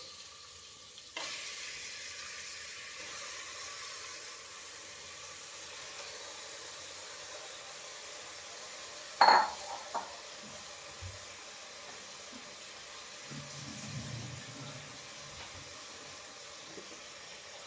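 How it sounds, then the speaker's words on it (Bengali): Chicken gizzards fry in a pan with browned onion and tomato, giving a soft, steady sizzle with a sharp clatter of stirring around the middle and quieter stirring afterward. "এই স্টমাকগুলো আমি দিয়ে দিলাম দিয়ে ভালো করে কষবো আমি স্টমাকগুলো পেঁয়াজ আর হচ্ছে টমেটোর সাথে"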